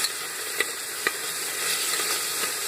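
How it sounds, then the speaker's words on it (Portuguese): Bacon frying in a pan makes a soft, continuous hiss, punctuated by a few faint pops and ticks early on. "Primeiro a gente vai dar uma fritadinha no bacon."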